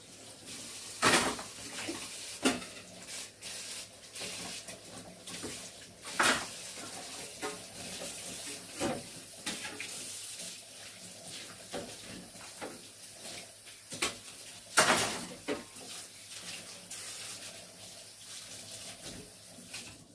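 Cake tools such as ganache spatulas and scrapers washed under a running tap at a sink, a steady water rush broken by several louder splashes and clatters, fairly close with no talking.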